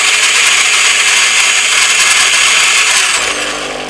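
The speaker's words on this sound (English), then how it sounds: "if we select coffee, let's change, it will grind." A Kups EA series coffee machine grinds coffee, a loud steady whirring buzz that runs continuously and then drops slightly in level near the end, with no talking.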